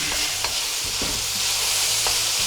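A Chinese stir fry cooks in a wok with a loud, steady hiss of sizzling, punctuated by a few soft scrapes and knocks of the utensil close by.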